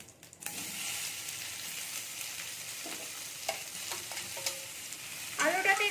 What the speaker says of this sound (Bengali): একটু নেড়ে নেবো আমি আলুটা আমি নেড়ে দিচ্ছি